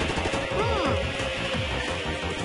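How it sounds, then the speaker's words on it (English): Gunfire from a civil-war battle scene in the video game Trauma Center: Under the Knife 2, a dense continuous rattle of shots under game music with a tone sweeping over it, fairly loud and steady. "The gunfire isn't as loud."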